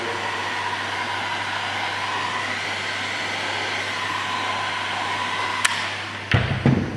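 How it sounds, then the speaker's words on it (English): A heat gun blows steadily and loudly while warming vinyl wrap on Nissan Patrol Y62 interior trim, a constant close whooshing roar that cuts off near the end, followed by a couple of handling knocks. "just give it a bit of heat, wave the heat around"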